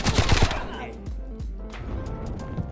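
Rapid automatic gunfire bursts in a Nuketown match, loud and close at the start, then sparser thumps and distant shots with a player talking over the game audio.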